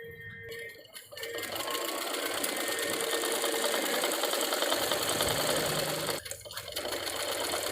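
An electric sewing machine runs steadily, stitching together pre-cut fabric strips to form the waistband belt of a child's palazzo, with a brief pause near the start and again near the end; no one speaks.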